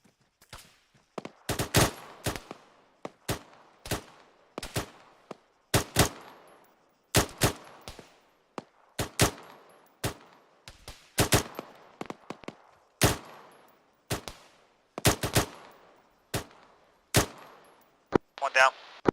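Repeated gunfire in an Arma 3 arctic training firefight, with sharp rifle shots in irregular bursts and single cracks spread across the whole stretch, loud and close, and some radio-style voices faintly underneath.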